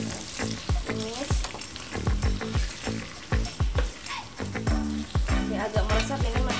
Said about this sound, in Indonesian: Tumis.